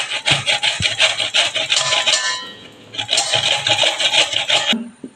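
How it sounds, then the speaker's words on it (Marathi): Tender bottle gourd is rubbed against a fine kitchen grater in quick, even back-and-forth strokes, a close, crisp rasping that runs in two bursts with a short pause between them. "बारीक किसणीनं किसून घेणार आहोत."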